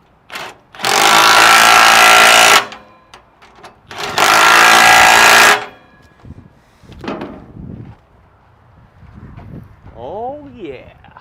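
A battery-powered impact hammer tightens a stack mount on a cabover truck in two loud, sustained rattling bursts separated by a pause, followed by quieter knocks and a brief voice.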